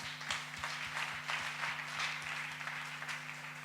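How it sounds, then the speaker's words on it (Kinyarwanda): A live theater audience applauds in a steady, moderately distant wash of clapping, with a low electrical hum running underneath. "Mfashe tumuha amashyi."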